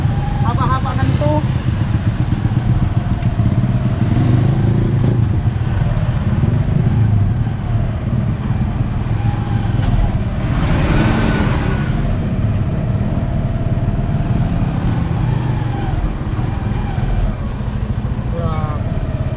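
Dense road traffic of motorcycles and cars in heavy congestion, with a constant loud engine drone and idling hum, a vehicle revving and passing near the middle, people talking faintly underneath.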